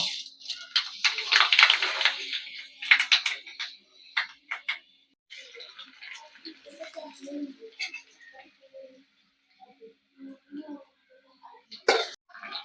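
Fenugreek seeds splutter in hot oil in an aluminium pan for a fish curry, giving scattered sharp pops and crackles, busy at first and then thinning into sparse, quieter snaps.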